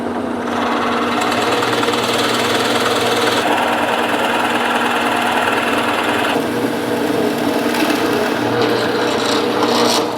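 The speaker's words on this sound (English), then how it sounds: "Let's go drill that hole out." A power drill bores into wood with a loud, continuous grinding whir, its pitch shifting as the bit cuts deeper, steady for several seconds.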